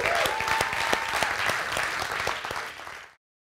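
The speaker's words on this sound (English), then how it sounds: "Let's give them a big round of applause." Audience applause at a startup demo day, a steady wash of many hands clapping for about three seconds before cutting off abruptly.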